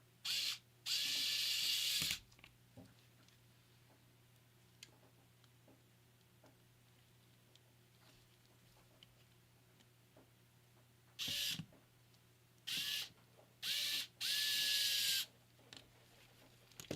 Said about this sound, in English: we'll get the motherboard screws back in.